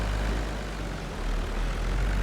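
Deep, steady low-frequency drone of a Mercedes-Benz tractor engine in Farming Simulator 25, a loud continuous rumble that holds evenly from start to end with no other sounds.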